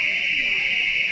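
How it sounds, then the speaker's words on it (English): A fire door alarm at a Walmart store rings as a steady, piercing electronic tone, continuous and fairly loud over faint background noise. "the alarm that you guys are hearing in the background, I accidentally set it off"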